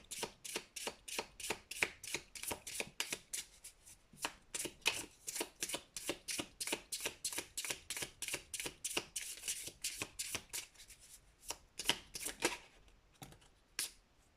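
Tarot cards shuffled and drawn by hand: a long, steady run of crisp, close papery snaps and riffles, closely spaced, easing slightly near the end, with no talking.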